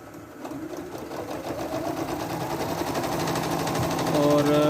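A Singer Rill Deluxe sewing machine runs a simple stitch, its rapid mechanical clatter building steadily and growing louder, with a brief whirring hum near the end; no one speaks.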